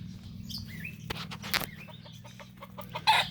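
Game fowl, a hen and a rooster, cluck and murmur softly nearby, with a few sharper calls and chirps over a low steady hum.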